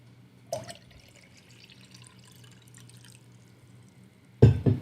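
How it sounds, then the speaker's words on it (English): Vodka poured into a glass of orange juice indoors: a short splash of liquid, a faint trickling stream, then a louder closing splash of liquid hitting the glass. "Adding some vodka to my OJ."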